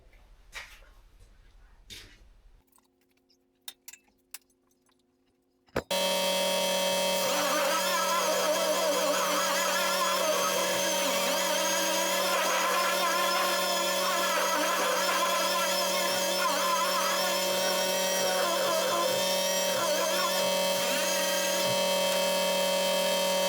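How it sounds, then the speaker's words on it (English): A power sander starts up and runs continuously with a loud steady buzzing drone, sanding the interior of a 1976 BMW 2002, after a few seconds of quieter handling noises. "I'll start working on some more sanding."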